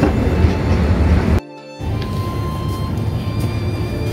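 A tram rumbles past on a Zurich city street, a loud, close rolling roar that cuts out briefly, then continues as a lighter, steady rumble.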